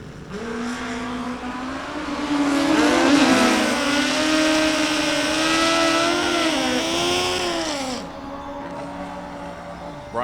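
Suzuki and Kawasaki drag racing motorcycles launching side by side at a bracket final, loud high-revving engines rising and shifting pitch for about eight seconds as they pull away, with a faint announcer voice underneath.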